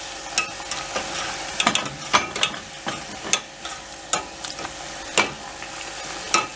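Homemade potatoes fry in a pan while a utensil stirs them carefully, making repeated scraping clicks and taps over a soft sizzle at moderate volume.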